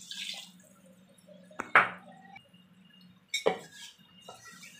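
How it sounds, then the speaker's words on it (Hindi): Water goes into a clay handi pot of mutton curry, heard as two short, close splashes over a quiet, steady background hum. "पानी मैंने डाल दिया,"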